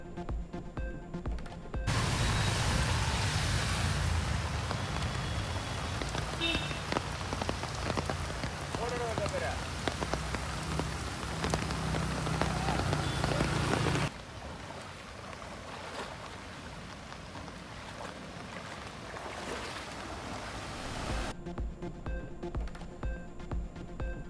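Steady rain pours down on flooded streets, a dense, even hiss that stays loud for most of the clip, then drops to a softer patter partway through.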